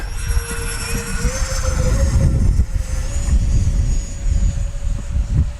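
A Freewing PJ50 radio-controlled business jet banks through a diving turn, its turbine-like whine holding steady tones that shift slightly in pitch as it passes, fairly loud and continuous against outdoor air with no talking.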